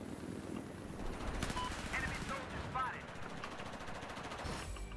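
Scout helicopter minigun fire in Battlefield 4 on the Flood Zone map, a continuous rapid rattle of gunfire mixed with explosions and game noise, loud and steady across the stretch, with voices faint underneath.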